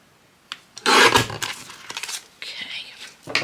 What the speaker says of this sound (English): I'm going to cut that so it's straight.